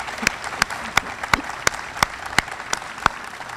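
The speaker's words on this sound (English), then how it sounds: "Meg Hawkins, yes, that deserves applause." A few people clap slowly and sparsely at a library grand opening, about ten distinct claps spaced fairly evenly, with a quiet murmur of room noise underneath.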